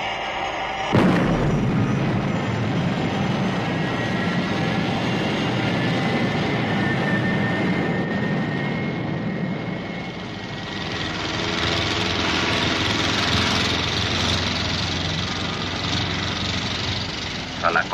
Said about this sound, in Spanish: Thunderbird 2 llamando a Scott. Estoy a punto de despegar.